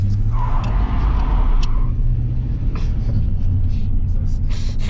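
A Buick Electra car running nearby, a heavy low engine rumble holding steady throughout, with a few brief thumps and clicks and some faint voices in the background.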